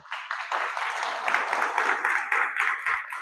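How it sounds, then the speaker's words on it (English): Audience applause after volunteer devotees are thanked during a devotional study session, a broad steady wash of clapping that swells and holds for about three seconds at moderate volume with no voices over it. "Please, a big applause for them."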